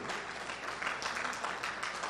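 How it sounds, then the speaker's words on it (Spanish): Soft audience applause at a neuropsychology conference as a speaker is welcomed, a faint, even patter of clapping filling the short moment. "Por favor, un fuerte aplauso para la doctora Karel Alexa Guevara Concepción."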